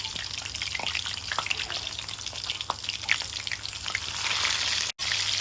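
Chicken doughnuts deep-fry in oil over a medium flame, making a steady, close bubbling sizzle with small crackles throughout and a brief dropout near the end.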